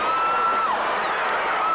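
A wrestling arena crowd, loud and continuous, roars and cheers in a dense wash of voices with no pauses, and a faint whistle-like tone rises and falls over it.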